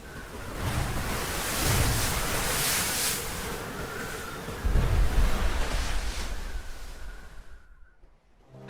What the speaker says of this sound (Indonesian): Badai musim dingin mengamuk, menabrak tebing pulau berbatu yang sepi.